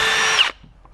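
Power drill spinning a self-tapping screw into a 2014-2018 Silverado Sierra truck frame, one short high whine that cuts off after half a second, close and loud.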